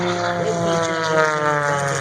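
An all-plastic MXS aerobatic airplane in flight, a loud steady propeller engine drone with sweeping pitch, heard alone without talk.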